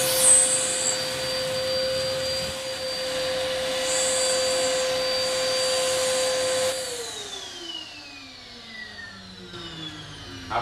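A portable dust collector vacuum runs with a loud, steady whine and airflow hiss, then winds down as the motor switches off and the pitch slides lower, with no voices.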